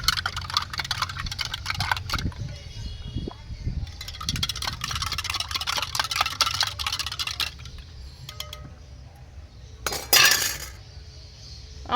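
A spoon clinks and scrapes against a glass while stirring roasted raw mango sherbet, a run of rapid close clinks followed by a louder ring near the end, with soft voice in the background.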